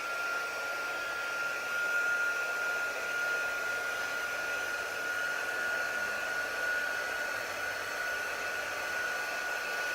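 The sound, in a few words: heat embossing tool heat setting stamped foil image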